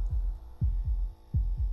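Low heartbeat thumps from a clown horror video game come in double pulses, about three pairs in under two seconds, over a steady electronic hum. Nobody speaks.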